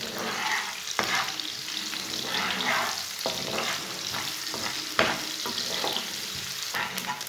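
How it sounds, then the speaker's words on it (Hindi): Finely chopped onion sizzles and fries steadily in a pan until lightly browned, with occasional stirring clicks over the constant close hiss. "बारीक कटा हुआ प्याज डाल लेंगे। प्याज को हल्का सा ब्राउन कर लेंगे।"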